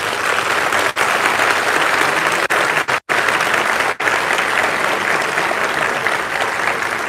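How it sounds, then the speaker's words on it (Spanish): A church congregation gives a long, strong round of applause, a steady dense roar of clapping that fills the room, broken only by a few brief dips near the middle. "fuerte aplauso"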